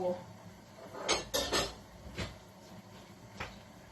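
A metal lid clanks onto a cooking pot in a home kitchen, a few sharp close rattles in quick succession followed by one lighter tap, otherwise fairly quiet.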